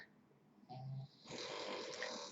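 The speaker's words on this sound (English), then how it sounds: "that's my dog in the background snoring his little head off" A dog snores with quiet, rough breaths, two drawn-out snorts rising and falling, faint and close in an otherwise still room.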